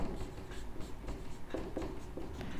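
Pen strokes as an equation is written out by hand during a Class 10 maths lesson on pairs of linear equations: quiet, scratchy, intermittent strokes close to the microphone, with no talking.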